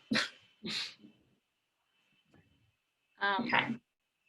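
A pet dog whimpers and yelps in short, sharp bursts, close by, after having its foot trodden on indoors, with quiet gaps between the cries.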